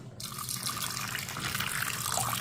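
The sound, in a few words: pouring water into pressure cooker with butter beans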